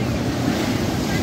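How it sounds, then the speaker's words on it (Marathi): A dense roar of surf and wind at Harihareshwar beach, India, fills the whole moment, a broad rushing wash of waves with no distinct break. "लाटा लाटा आहे."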